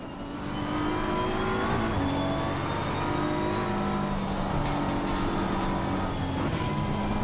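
A damaged BMW M4 GT3 race car in Assetto Corsa Competizione on the Nordschleife revs hard and steadily, its engine note a loud, sustained whine with slight pitch shifts as gears change.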